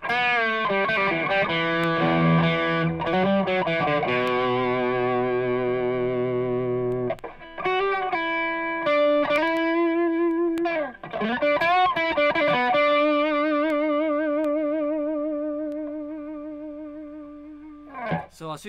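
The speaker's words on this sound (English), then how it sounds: "there's a nice sort of compression to it. It makes it, you know, easy to play leads, but it still sounds really nice and open and focused" Electric guitar played through a ProAnalog Dual Drive overdrive pedal, with sustained, compressed lead notes and bends ringing out in several phrases, slightly gritty with a shimmering edge, loud and alone.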